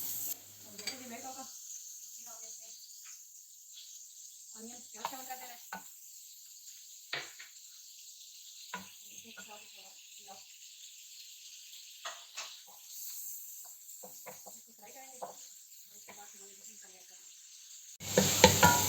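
Butter and onions sizzle in a pan for makhani daal mash, a faint steady fry hiss under intermittent talk, swelling louder near the end.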